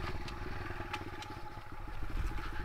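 A motorcycle engine runs at a low, uneven idle with faint clattering. It sounds fairly quiet and steady, with no talking.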